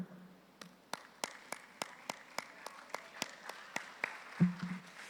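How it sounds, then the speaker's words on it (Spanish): Hand clapping in a church gathering, a sparse run of sharp, evenly spaced claps in a steady rhythm, fairly quiet and close, with a brief murmur near the end. "Los españoles le sacan música a sus palmas."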